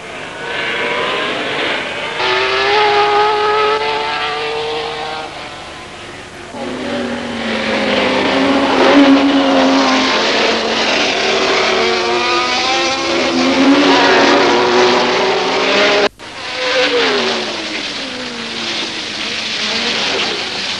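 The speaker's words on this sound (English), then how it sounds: "when the flag falls into the lead goes Jackie Ickx in the Ferrari 312 from pole position" Sports racing cars including a Ferrari 312 and Alfa T33-3 thunder away at the start of the 1971 Brands Hatch 1000km on a wet track, a loud continuous roar of many engines revving and accelerating together, with a brief cut near the end.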